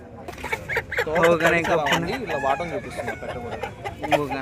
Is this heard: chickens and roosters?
yes